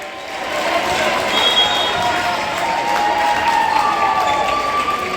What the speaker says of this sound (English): Crowd's very happy to see that happen.